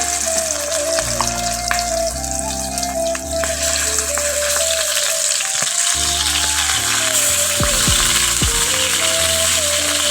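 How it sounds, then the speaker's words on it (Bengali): Marinated chicken pieces dropped into hot oil fry with a loud, close, constant sizzle and crackle, over steady background music. "তেলটা আমার গরম হয়ে গেছে এখন আমি মাংসগুলো দিয়ে দেবো"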